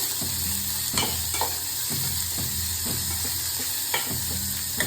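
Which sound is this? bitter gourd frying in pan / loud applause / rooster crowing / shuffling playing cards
bitter gourd frying in pan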